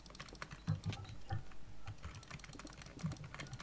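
Scattered mouse clicks while playing Minecraft, a few sharper taps standing out from a soft, irregular clatter with no voices.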